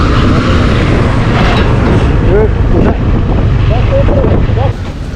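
Strong wind buffets the microphone in a continuous low roar on a hill walk in Bandipur, Nepal, with people talking intermittently over it.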